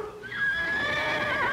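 A horse neighs loudly and close by at a rodeo, one long rising and wavering whinny that carries on for over a second, heard clearly on its own.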